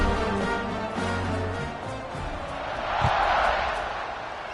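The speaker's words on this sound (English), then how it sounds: "this crowd now ready to get behind them" A football stadium crowd roars steadily at kickoff, a broad wash of cheering that swells louder toward the end, with a commentator's voice carrying over it.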